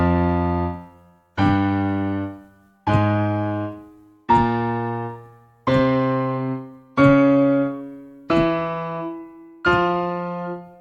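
Eight loud piano double octaves struck one after another at an even, slow pace, each chord ringing and decaying before the next, with the lowest notes from the left-hand fifth finger brought out more strongly. No voices are heard.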